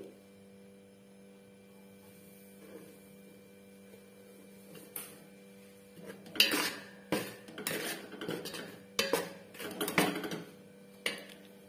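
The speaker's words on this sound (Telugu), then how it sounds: "ఆ వరిపిండిని ఇప్పుడు ఆ నెయ్యి గిన్నెలో వేసుకొని చిన్న ఫ్లేమ్ మీద వేయించుకోవాలి" Rice flour is added to ghee in a pot and stirred over a low flame. After a quiet stretch with a steady electrical hum, a metal spoon scrapes and clinks against the pot in irregular bursts.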